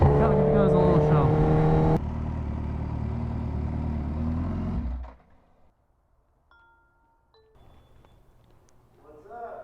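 A Kawasaki H2R motorcycle engine roars loudly at high revs, holding a strong sustained drone before dropping sharply to near idle and quiet, with faint background noise afterward.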